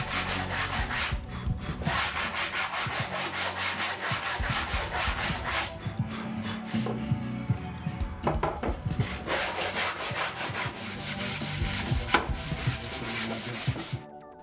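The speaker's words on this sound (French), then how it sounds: "je peux poncer toutes les pièces avec ma nouvelle super ponceuse à bande qui fait un travail de fou et casse les arêtes" New belt sander working over wooden furniture pieces for a steel-and-wood cabinet, a continuous close abrasive rubbing with rhythmic passes and brief pauses, no voices.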